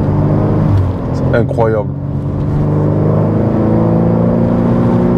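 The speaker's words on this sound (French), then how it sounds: "le 6 cylindres et à chaque passage de rapport à l'arrière, à l'échappement, on entend une espèce de petit boom." BMW M3 G80 straight-six engine and exhaust under way, a steady loud drone filling the cabin with a brief rise in pitch, while someone talks over it.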